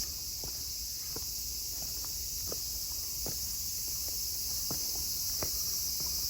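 Cicadas in a garden in Nara, Japan, give a steady, high-pitched buzzing drone that fills the background throughout, with faint scattered footsteps and rustles underneath.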